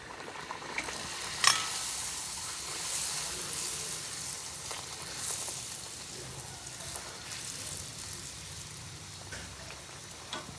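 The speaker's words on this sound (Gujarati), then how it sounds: "બસ આ શાક બની જાય એટલે પૂરી આપણી તળવા ચાલુ કરી દીધી છે મસ્ત" Puris frying in hot oil at home, a soft continuous sizzle and bubbling with faint scattered crackles and one brief clatter early on, fairly quiet and close, without talk.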